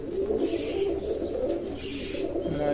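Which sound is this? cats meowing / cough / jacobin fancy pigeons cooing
jacobin fancy pigeons cooing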